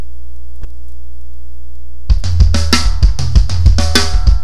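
After two seconds of steady mains hum, a drum kit bursts into a rapid linear gospel fill of close, loud hits that moves around the kit and finishes on the rack tom, with no voices.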